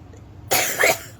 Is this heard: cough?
yes